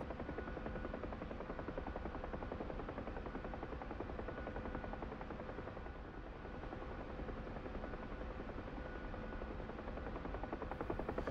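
A Bell UH-1 helicopter in a flight simulator game drones on continuously in flight, with a steady, dense rotor and engine roar at moderate level throughout.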